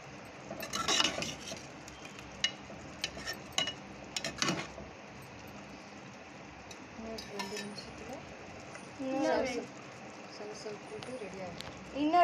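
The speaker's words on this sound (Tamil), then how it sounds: "எல்லாம் கிண்டிக்கலாம்." A spoon stirs and scrapes a pan of chayote kootu with grated coconut, giving scattered clinks and soft scraping under quiet talk.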